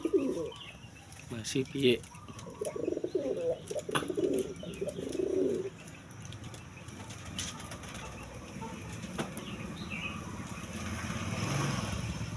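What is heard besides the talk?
female racing pigeon cooing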